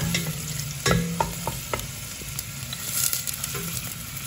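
Chopped onions sizzling in olive oil in a pan, with a steady close frying hiss and a few sharp clatters and scrapes of a spoon stirring, no voices.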